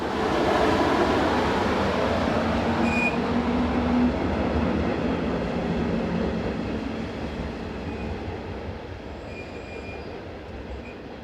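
Electric locomotive 143366 pulls away eastbound from Freiberg station with the 0939 service from Zwickau, a steady loud rumble of wagons and wheels with brief squeals, gradually easing as the train moves off.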